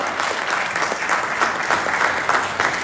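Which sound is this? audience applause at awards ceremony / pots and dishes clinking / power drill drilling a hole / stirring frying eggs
audience applause at awards ceremony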